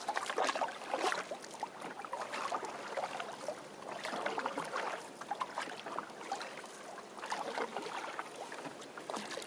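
Canoe paddled on Mink Lake in northern Algonquin, a continuous wash of water splashing and swirling with rhythmic paddle strokes and some wind, steady and close.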